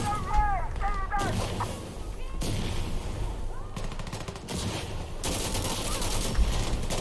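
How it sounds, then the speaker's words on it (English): Heavy gunfire and explosive blasts from a firefight in the video game Insurgency: Sandstorm during a counterattack around a farmhouse, with repeated loud bursts and booms and a voice talking briefly underneath. "That's enemy mortar, I think."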